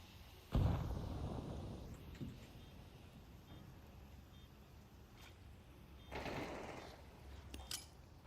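A grenade thrown during a counter-terrorist shooter match detonates with a single sharp close blast, followed by a rumbling tail, a few small clicks and a second softer burst later.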